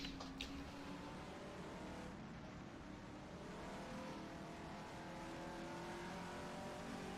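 A race car engine in the rFactor 2 driving simulator hums steadily at moderate volume, its pitch rising slowly as the throttle goes down, with a faint distorted edge and no voices.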